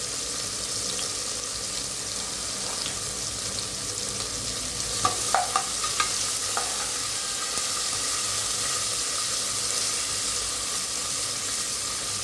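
Onions sautéing in a pan for plain biryani give a steady soft sizzle throughout, with a few brief scraping stir knocks from a spatula midway.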